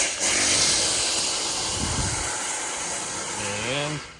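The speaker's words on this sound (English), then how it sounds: "Sorry for the noise, my brother's putting a leveling kit on his F-150," Power tools whir and hiss steadily in a garage with a lift while a leveling kit goes onto a Ford F-150, the noise loud and continuous, with brief voice-like tones near the end.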